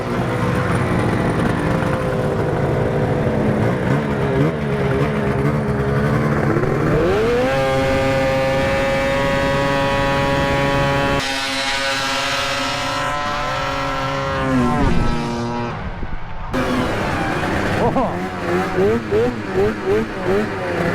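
Vehicles accelerating hard in a drag race, loud engine drones rising in pitch through repeated gear changes, close and continuous, with a voice talking over part of it.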